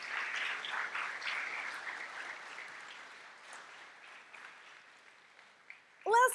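Audience applause for conference sponsors at a JavaScript event's opening, a broad steady clatter of hands that slowly thins out over several seconds before a brief louder burst at the very end.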